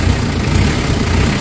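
A Nissan Vanette engine runs steadily after a low-power and throttle-delay fix, giving a close, loud, low rumbling hum with no talk over it.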